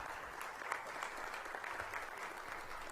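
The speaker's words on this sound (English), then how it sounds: "Does she deserve a round of applause?" Steady audience applause at a police and fire chiefs swearing-in ceremony, an even wash of clapping heard at a distance and fairly soft, with no talk over it.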